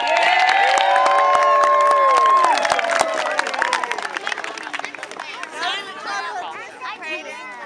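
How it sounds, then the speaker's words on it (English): Outdoor crowd at a nature preserve holiday event applauds and cheers loudly at first, then the clapping thins into chatter, shouts and children's voices as the noise fades. "Now, before we do this, I want to give Gary one more round of applause."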